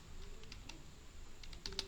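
Soft keystrokes on a computer keyboard, a handful of faint, scattered clicks over about two seconds, with a slightly louder pair of taps at the end, no voices.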